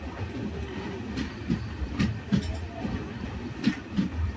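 Taj Express passenger train rolling on rails near a station, a steady low rumble with rhythmic clickety-clack wheel thumps at regular intervals, heard from on board and no talk.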